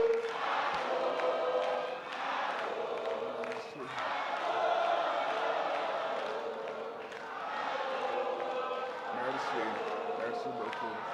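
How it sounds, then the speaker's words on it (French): Large crowd at an Alassane Ouattara campaign rally in Bondoukou cheering and applauding, a dense sustained roar with swelling waves, chanting voices and a speaker heard over it. "on accueille son Excellence Alassane Ouattara sous vos applaudissements"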